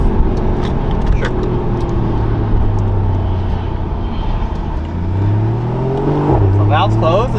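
A Porsche 981 fitted with a Soul Performance competition exhaust, valves closed, hums loudly and steadily up close, then revs up near the end.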